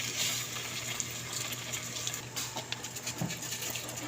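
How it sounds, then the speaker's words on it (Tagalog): Small amount of water poured into a cooking pot while making fish paksiw, a soft continuous splashing patter that runs steadily at close range and is heard alone without voices. "Nantog gamay tubig mga idol."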